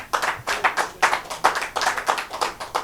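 A church congregation claps for the Lord in a brisk, steady rhythm, many hands together, loud and fairly close, with no talk over it.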